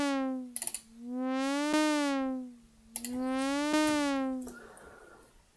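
Synth note with an LFO mapped to detune, its pitch bending and wobbling in slow waves across two sustained swells, with brief clicks between, heard alone.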